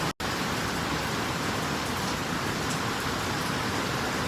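Steady rain falls close by in an even, unbroken hiss during a thunderstorm, with no voices.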